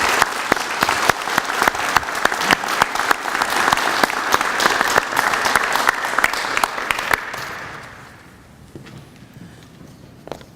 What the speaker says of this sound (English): would you please join me in a round of applause for the veterans that are here who have already received their pin